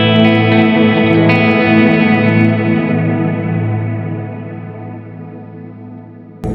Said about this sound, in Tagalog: May reverb pa rin na nangyayari kasi nga naiwan yung reverb ni black box.